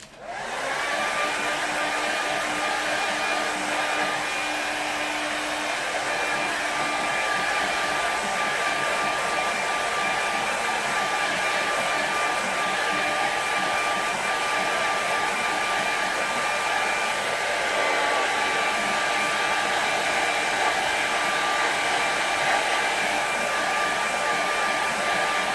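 A hair dryer drying a watercolour painting blows loudly and steadily for about 25 seconds. Its whine holds constant and close by, with a slight shift in pitch partway through and no voices.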